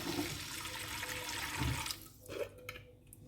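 Hot tap water runs over a cast iron frying pan being washed: a steady, close gush for about two seconds, then it cuts back to softer trickles and drips, with no voices.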